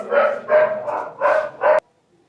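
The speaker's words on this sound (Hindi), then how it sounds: "कुत्ते बहुत भौंक रहे हैं नीचे" Dogs bark outside at night, five loud, close barks in an uneven rhythm before cutting off into near silence.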